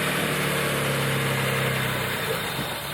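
Idling engine of a Mitsubishi GTO with a suspected boost leak, a steady close rumble with a continuous hiss and faint vibration running evenly throughout, no voices.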